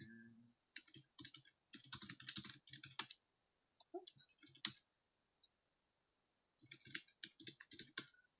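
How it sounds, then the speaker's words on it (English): Quiet, close typing on a computer keyboard comes in quick bursts of soft clicks, with brief pauses and a longer gap before a final flurry. "I am typing these down right now"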